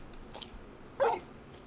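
Torgal, the large dog from the Final Fantasy XVI video game, lets out a single short bark close by, preceded by a faint whimpering sound.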